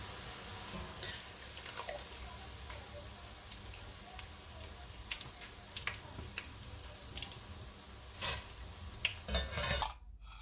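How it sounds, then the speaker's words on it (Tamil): Boondi for laddu frying in hot oil, a soft steady sizzle with scattered clinks and stirring ticks from a metal ladle, close and moderately loud, no talking. "முழுவதுமாக இந்த பூந்தியை பொறிச்சு எடுத்துக்கொள்ளும்"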